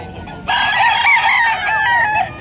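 A rooster crows loudly and close among other chickens at a pre-dawn pet market in Bocaue, Bulacan, one long drawn-out call over a low murmur of background noise.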